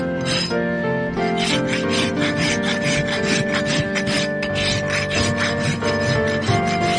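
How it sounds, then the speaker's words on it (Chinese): A rasp files steadily back and forth across the underside of a horse's hoof whose surface horn is rotting. The rough rubbing strokes repeat close and loud throughout, with a sustained tonal ring underneath and no voices. "然后拿出锉刀打磨"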